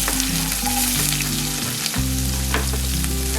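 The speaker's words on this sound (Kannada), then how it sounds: "ಒಗ್ಗರಣೆಗೆ 1 ಸಣ್ಣ ಈರುಳ್ಳಿ ಹಾಕ್ಕೊಳ್ತಾ ಇದ್ದೀನಿ" Chopped onion sizzles steadily in hot oil with mustard seeds, a tempering for a bamboo shoot stir-fry, close and continuous with a low hum underneath and no talking.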